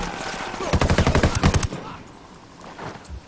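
Automatic assault rifle fire in the Ghost Recon video game rattles out as one loud, rapid burst of about a dozen shots. A softer game soundscape with faint distant pops follows.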